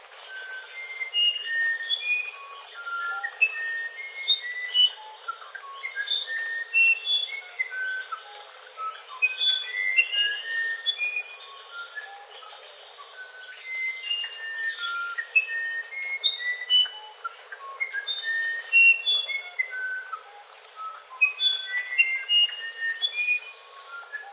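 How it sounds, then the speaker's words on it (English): A recording of a musician's wren plays alone, without talk. It is a long run of clear, bright whistled notes at varied pitches, delivered in quick, irregular phrases with short pauses between them. "So that's why they call it the musician's wren"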